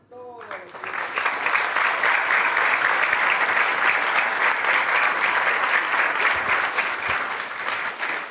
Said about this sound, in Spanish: le damos un fuerte aplauso a todos los que...